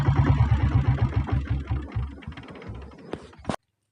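A heavy single-cylinder 7.5 HP diesel engine on a Royal Enfield Bullet motorcycle thumps in a slow, even chugging rhythm close up, then fades and cuts off abruptly.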